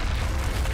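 A fire spell is cast in a video game, giving a sustained, loud, low rumbling roar that holds steady throughout with no talking over it.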